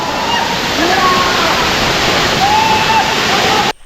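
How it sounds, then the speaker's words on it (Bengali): A large jungle waterfall in Tripura roars as a loud, steady broadband rush, with faint voices briefly audible over the constant falling water before it cuts off near the end. "এই দেখো ওয়াটারফল"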